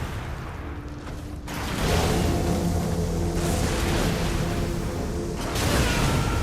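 Explosions in a Macbeth video game boom through dense, loud game audio, with a low rumbling bed and broad bursts at about 1.5 and 5.5 seconds over steady droning tones.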